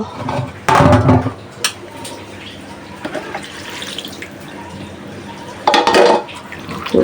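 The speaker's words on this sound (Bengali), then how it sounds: "হাতে সুন্দর করে মাখিয়ে এখন পানি দিয়ে দিব" Water is poured into a pot of small-fish curry seasoned with cumin, giving two short, loud splashing bursts separated by quieter kitchen clatter and drips.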